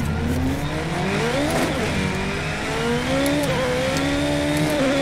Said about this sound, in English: This is Project Cars 2 right now that I'm playing.